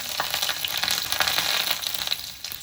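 Chillies fry in hot oil alongside popping mustard seeds, a close, bright crackling sizzle with quick irregular pops that eases off toward the end, with no talk.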